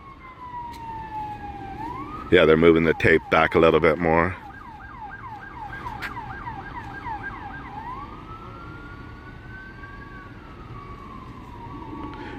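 An ambulance pulls away from a traffic collision scene, its siren wailing and yelping in rising and falling sweeps, with a loud burst of air horn blasts early on. Someone speaks briefly over the steady siren.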